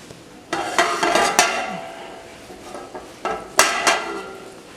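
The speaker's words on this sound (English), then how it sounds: "begin melting butter and mix it around on the pot until well greased" Butter being stirred around a pot in a colonial-style kitchen, with a few sharp clinks and scrapes of a utensil against the metal coming in two short bursts over faint background noise.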